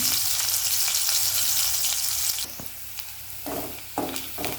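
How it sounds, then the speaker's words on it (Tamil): Garlic frying in hot oil for vegetable noodles gives a loud, dense, continuous sizzle that drops in intensity partway through, followed by several short stirring scrapes, close up and with no talking. "பூண்டு எண்ணெயில் நல்லா கொஞ்சம் ஃப்ரை ஆகணும்"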